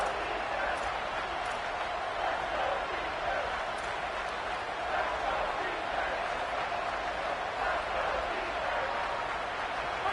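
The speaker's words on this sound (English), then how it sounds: "if you didn't know this was a big play, the crowd is telling you, a huge third down" Football stadium crowd at a Florida versus Arkansas game roaring steadily after a big third-down play, a broad sustained wash of cheering with commentary running over it.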